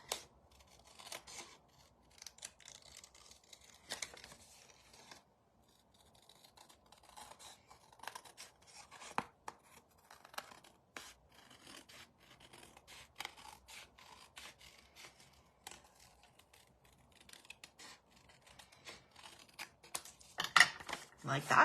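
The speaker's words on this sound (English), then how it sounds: "Okay, so then we're gonna trim around this." Scissors trim around pattern paper for a handmade Christmas card, making repeated close snipping and rustling paper sounds at an uneven pace, fairly quiet, with a few louder cuts near the end.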